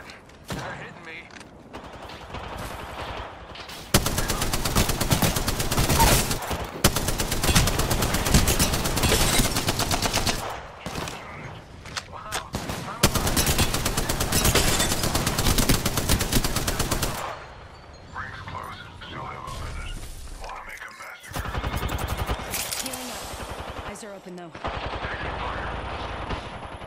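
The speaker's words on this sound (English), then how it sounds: "It's shots fired. They're hitting me." Sustained bursts of automatic gunfire rattle through an Apex Legends match, long dense volleys broken by brief pauses and scattered single shots, loud and close throughout.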